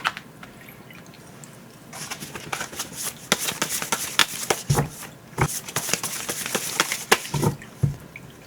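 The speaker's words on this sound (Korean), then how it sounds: "퍼플 2번을 선택하신 분들 카드 셀렉하도록 하겠습니다." Tarot cards being picked and handled at a close table: dense papery shuffling and sliding rustles with crisp flicks and taps, steady and fairly near, with no talking.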